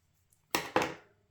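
Scissors trimming a ribbon tail make two quick, crisp snips close by, a fraction of a second apart, in an otherwise quiet room.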